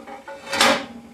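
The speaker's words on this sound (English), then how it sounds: "this is a heavy cast iron burner, and just to show you, it just lifts" Heavy grooved cast iron burner lifted off the edge of the firebox in a hand-fed anthracite coal stove, a single short metallic scrape and clunk, close and fairly clear.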